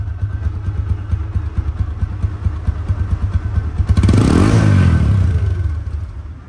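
A second-hand 2023/24 TVS Apache RTR 160 2V motorcycle idles with a steady, loud, close thump, then is revved hard into a rising roar that slowly falls back.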